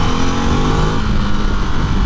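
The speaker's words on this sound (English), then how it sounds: "the noise it makes is lovely. Got a really nice kind of whir to it, that typical Ducati sound" A Ducati DesertX adventure motorcycle engine revs loudly and steadily, a dense whirring roar held at close range throughout with no voices over it.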